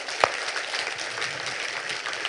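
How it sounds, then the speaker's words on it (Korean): A congregation applauding during a church worship service, a steady wash of many hands clapping at moderate volume, with one sharp louder clap near the start. "하는 분만 박수로 영광 돌립니다"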